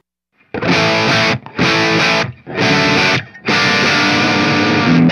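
Distorted electric guitar through a closed-back cabinet, four loud chord hits separated by brief pauses, with the last one ringing out.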